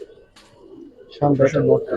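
Pigeons in a loft cooing, a soft low murmur at first, then a loud close burst of rolling coos in the second half.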